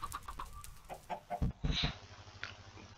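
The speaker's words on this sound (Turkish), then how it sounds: "Tavuk var aslında burada, iyi ya." Chickens cluck in Minecraft, a few short clucks rising over quiet game ambience with soft clicks of play.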